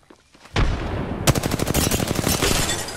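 Rapid video game weapon gunfire, a single shot followed by sustained automatic bursts, loud and close with no talking.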